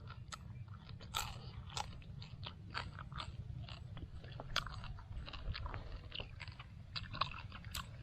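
Close, crunchy chewing of grilled rattlesnake, with repeated sharp bites and crackles in an irregular rhythm over a steady low background murmur, no talk.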